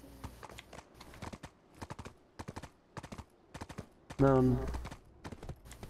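Horse hooves clip-clopping in Black Desert, a rapid run of light clattering steps that continues for several seconds, fairly faint, with a brief spoken interjection near the end.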